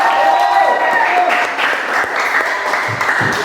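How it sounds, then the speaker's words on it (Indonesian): Applause in a classroom during a chemistry lesson, a brief burst of clapping from students that runs steadily for a few seconds, with a teacher's voice and chatter mixed in. "tepuk tangan."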